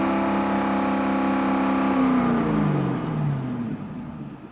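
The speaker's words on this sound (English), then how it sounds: "I'm gonna rev up the engine." A Chevrolet Corvette engine being diagnosed for a cylinder misfire is held at high revs with a steady whining drone, then the pitch falls away as the throttle is released, close by with no talking.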